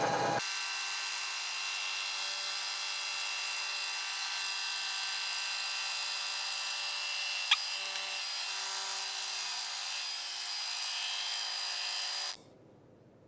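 A machining cut removes excess metal from an engine part that overheated after a timing chain failure, giving a steady, loud, high whine that holds for about twelve seconds, then stops abruptly with a quieter hum left behind.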